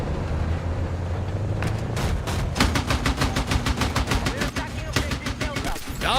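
Rapid video-game gunfire scoring a headshot: a steady stream of sharp, loud repeated shots fills the second half after a rumbling buildup, with voices and in-game noise underneath.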